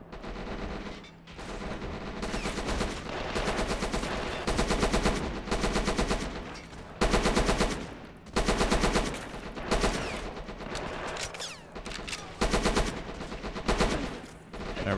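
Bursts of machine-gun fire and rifle shots crackle through a Men of War battle running the Helghast at War mod, coming in loud, dense volleys with brief gaps between them and no talk.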